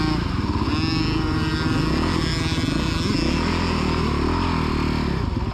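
A child's motocross bike rides around the Astley MX main track, its engine buzzing loud and close throughout with rhythmic revving and small shifts in pitch.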